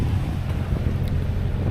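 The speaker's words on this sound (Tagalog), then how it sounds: "Kaso sa panahon ngayon, ano, sobrang hangin." Strong wind on a beach buffets the microphone with a steady low rumble, waves faintly mixed in, and no one speaking.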